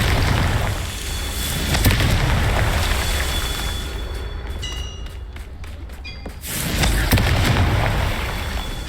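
Magical fire spells burst in the wizarding video game Hogwarts Legacy, dense booming explosions rumbling loudly with crackling debris, easing off into brief quieter clicks before another heavy blast swells up.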